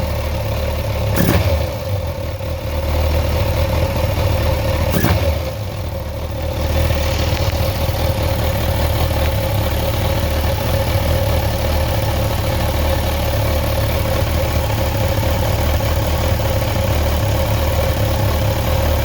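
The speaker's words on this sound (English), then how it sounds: "I'm gonna blip the throttle." A 2019 Kawasaki Versys 1000 SE LT+ four-cylinder engine idles steadily up close during throttle body synchronization, with one or two short throttle blips standing out early on before it settles back to an even idle.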